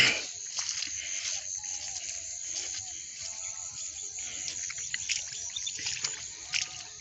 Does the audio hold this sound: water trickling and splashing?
yes